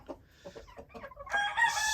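Chickens and two roosters in a wire-mesh coop, with soft clucks and short calls building into a loud crowing burst near the end, close by.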